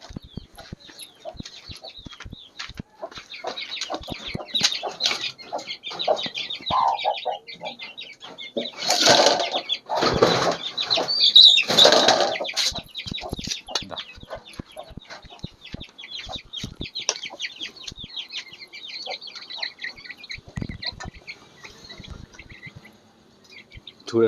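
Young chicks pecking at their feed, with soft clucks and chirps scattered throughout, a few louder bursts near the middle and faint insect-like trilling behind.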